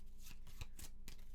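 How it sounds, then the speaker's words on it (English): A deck of cards from the board game Maquis is shuffled nearby on a tabletop, a few soft riffling bursts and snaps in quick succession with no talk. "This is going to get shuffled."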